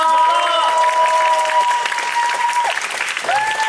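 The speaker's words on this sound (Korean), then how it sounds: "여러분들도 크게 한번 박수 한번 주시면 너무 감사드릴게요" Audience applause fills a curtain call after a performance of the musical Sidereus, steady and loud from start to end, with sustained tonal music sounding over the clapping.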